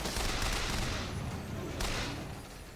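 Gunfire in the video game BioShock Infinite, a dense continuous roar of rapid shots and explosions filling the whole stretch with no clear breaks.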